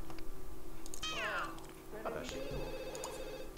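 A cat meows in The Sims 2, a rising and falling mewing call near the start followed by a second shorter cry, with a phone-like electronic tone and game ambience around it.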